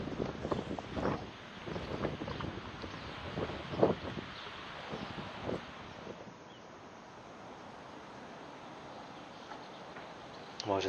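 Gusty wind buffets the microphone in uneven bursts at a feeder fishing competition, with faint voices in the background, easing to a steadier rush toward the end.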